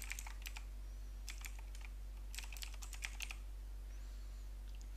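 Someone typing a website address into a web security scanner on a computer keyboard: short clusters of light, crisp keystrokes in separate bursts over a low steady hum, fairly quiet.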